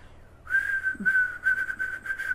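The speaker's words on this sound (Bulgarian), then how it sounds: "Е, сега ще ви свирна възможно най-силно." A person whistles loudly on a single sustained high tone, broken into a few long blasts with brief gaps, heard alone without talk.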